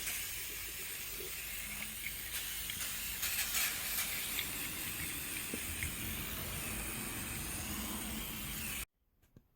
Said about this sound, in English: she's steaming a little bit